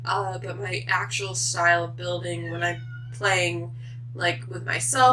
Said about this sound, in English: I don't know if you can hear my cat meowing outside my door right now.